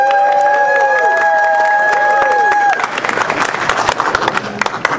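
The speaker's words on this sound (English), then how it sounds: "It's all going to go by votes of clapping" A Christmas tuba gathering in Belvidere, New Jersey: sustained tuba notes ring out, then an audience breaks into loud clapping and cheering, with voices scattered among the crowd.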